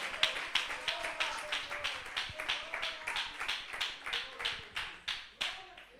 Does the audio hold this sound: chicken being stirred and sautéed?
no